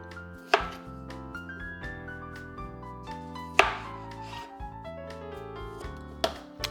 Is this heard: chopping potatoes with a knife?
yes